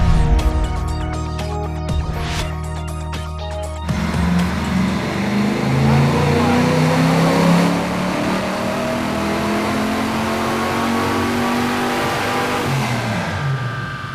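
A leaf-blower-supercharged 1978 Chevrolet Monza Spyder accelerates hard in second gear. The loud, close engine note climbs steadily in pitch, eases briefly on a shift, then rises again and fades slightly at the end.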